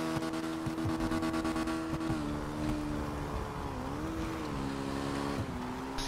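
A video-game motorbike engine drones steadily, its pitch dipping and rising as it revs and shifts, with no one speaking over it.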